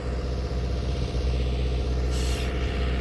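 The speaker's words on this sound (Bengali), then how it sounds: "ওই যে জেনারেটরের শব্দ।" A generator engine runs outdoors at night in a desert hill settlement, a steady low mechanical drone with a constant hum and no pause.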